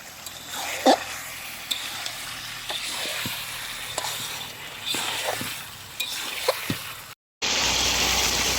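Meat curry sautés in a pan with a soft, close sizzle and intermittent scraping stirs, briefly cut off near the end before a louder burst of sizzling.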